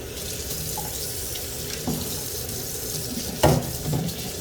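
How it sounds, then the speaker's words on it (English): Tap water runs steadily into a sink while celery is washed, a continuous rushing hiss with a couple of brief splashes and clunks near the end, close by and without talk. "celery needs to be washed because it has dirt on it."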